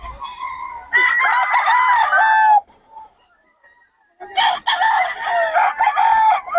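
A 19-month-old stag gamecock crows twice, loud and close, each long ragged call lasting about two seconds with a quiet gap between them.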